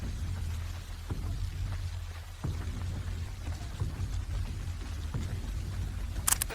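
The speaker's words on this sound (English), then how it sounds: "Dancers continue through rain, spray exploding from their steps." Steady rain hisses down through an outdoor street dance, with occasional dull thuds of feet landing in the wet and a sharp splash near the end.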